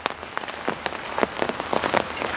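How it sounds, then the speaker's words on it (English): Heavy rain near Mount Fuji, a dense close patter of drops striking surfaces with uneven taps and splashes, steady and fairly loud with no voices. "we got back out of the car and it started raining heavily again"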